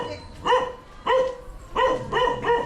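A dog barks four times in quick, uneven succession, each bark sharp and fairly close, with a short gap between the bursts.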